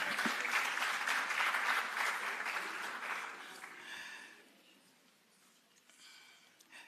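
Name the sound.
audience applause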